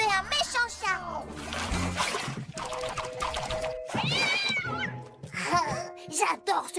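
A cartoon cat meows and caterwauls several times in a French-dubbed animated show, the cries mixed with animated voices talking and a brief splash.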